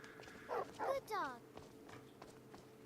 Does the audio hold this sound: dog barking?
yes